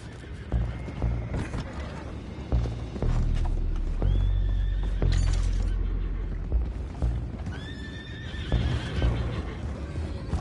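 Horses neigh and whinny in Red Dead Redemption 2, with several rising calls over a rumbling, busy game soundscape of hoof clatter, creaks and thuds, fairly close and loud.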